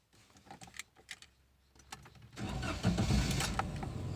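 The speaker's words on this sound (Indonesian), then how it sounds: "baru kita starter" A Toyota Agya manual car engine is started, a few light clicks and quiet cranking giving way to the engine catching and settling into a close, steady idle.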